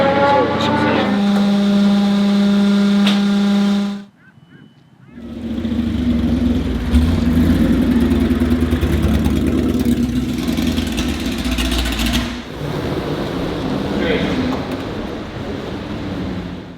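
A Porsche 908 Langheck with a 3-liter flat-8 engine runs loudly and close by. A steady tonal drone at first gives way, after a brief dip, to a rough, rumbling engine roar that carries on throughout.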